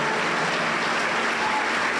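A church congregation at a Pentecostal service applauds the women's choir, with dense, even clapping that holds steady and fills the room for the whole stretch.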